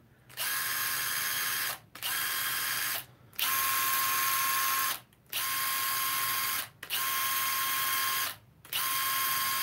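A Milwaukee 12V impact wrench runs on high in six sustained bursts of a whining, rattling hammering drone, with brief silent gaps between triggers, heard close up and alone.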